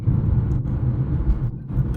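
A Fiat 500 with high mileage cruises at about 50 mph, its steady low engine and road rumble carrying a faint gearbox whine, continuous and fairly close with no talking.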